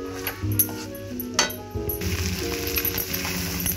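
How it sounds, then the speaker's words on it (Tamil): Veg noodles stir-fry over a high flame, a steady close sizzle with clinks and scrapes of a spatula against the pan, no talking. "ஒரு 5 நிமிஷம் இந்த மாதிரி ஹை ஃப்ளேமில் வச்சு கிளறி விடுங்க"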